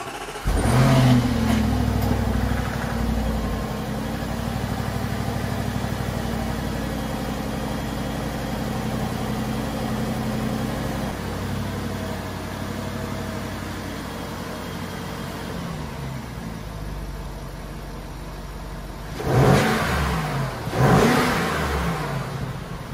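An Audi 4.0T V8 fitted with an APR carbon fiber intake revs steadily and loudly throughout, with a sharp pair of throttle blips near the end, no voices.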